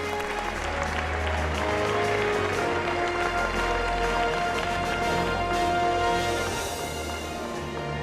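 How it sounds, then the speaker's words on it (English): An audience of a few hundred at a Nevada Democratic town hall applauds Senator Sanders, a dense, continuous roar of clapping that stays loud and steady throughout before tapering near the end. "give him a round of applause"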